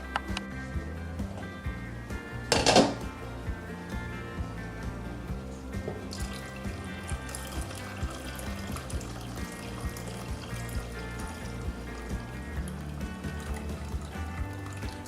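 Cardamom essence poured into sugar syrup: a soft liquid trickle and drip with one brief louder splash of pouring near the start, faint and close over a low background hum.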